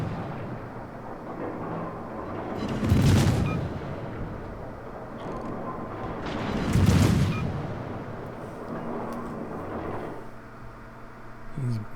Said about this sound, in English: Here comes some more shots.